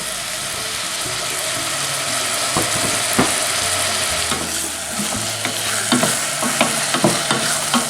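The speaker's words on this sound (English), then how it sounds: "the onions are starting to sweat" Onions frying in oil for a lasagna sauce, a loud continuous sizzle close to the pan with intermittent clicks and scrapes of stirring, no voices.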